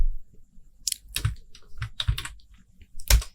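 Bursts of typing on a computer keyboard while an index.html file is created in VS Code, quick clustered keystrokes in three or four short runs separated by pauses, close and fairly loud, with no talk.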